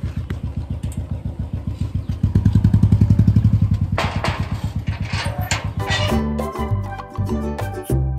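Motorcycle engine thumping at a steady rapid pulse while riding, loud and close throughout, with revs rising for a stretch before settling, then clattering shifts and road noise toward the end.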